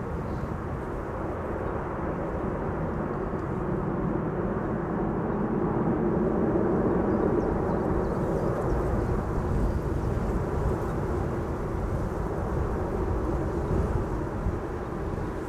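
An airliner lands at Amsterdam Schiphol Airport, a loud, continuous low rumble with roaring broadband noise that holds steady and swells slightly in the middle of the stretch, with no voices.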